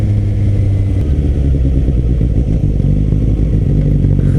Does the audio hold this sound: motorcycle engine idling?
yes